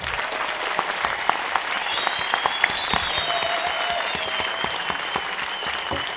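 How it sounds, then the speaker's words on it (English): A conference audience at an EVE Online developer panel gives a steady round of applause, dense clapping from many hands with a few louder claps and cheers. "Big round of applause,"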